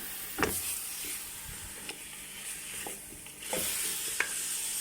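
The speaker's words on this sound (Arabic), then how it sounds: "هسه نقلب اللحم" Chunks of meat stirred and frying in a pot for a red meat stew, giving a soft, steady sizzle with a few scraping knocks from the spoon and no talking.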